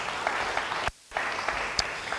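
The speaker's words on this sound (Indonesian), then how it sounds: "Beri tepuk tangan yang baik bagi dia." Church congregation clapping during a sermon, a brief spell of moderate applause that drops to silence for a moment and then resumes.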